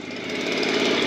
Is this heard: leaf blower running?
yes